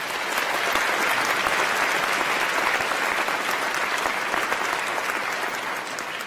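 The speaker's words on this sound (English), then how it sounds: "Please join me in a round of applause of thanks." Sustained applause from a large crowd at a university graduation ceremony, loud and dense, continuing steadily throughout.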